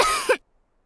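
A cartoon character gives a single short, close cough that ends abruptly in silence.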